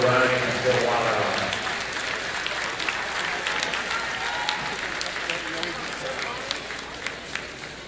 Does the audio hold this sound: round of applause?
yes